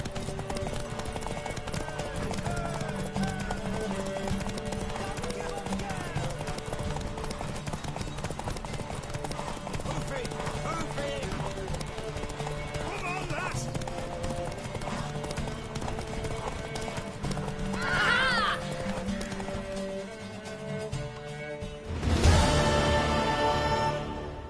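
A horse's hooves clip-clop steadily through a horse race in The Witcher 3, with occasional whinnies and a voice talking over it, ending in a brief louder burst.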